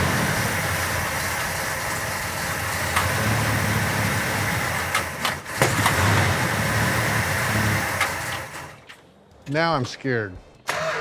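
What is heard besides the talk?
old 440 engine cranking and starting after 40 years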